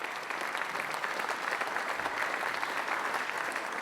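A seated audience at a 2016 NAIOP university challenge event breaks into sustained, dense applause, a steady wash of many hands clapping at even loudness throughout, with no voices rising above it.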